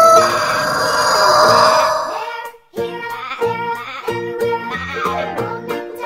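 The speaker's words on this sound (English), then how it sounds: "Rooster." A rooster crows loudly and close by, a long drawn-out call, followed after a brief pause by more clucking and crowing from nearby fowl.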